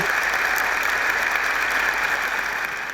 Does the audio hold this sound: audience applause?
yes